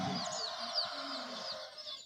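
A village chicken clucking softly and continuously while being injected with a vaccine under the skin, close by with a steady chirpy murmur and no talk.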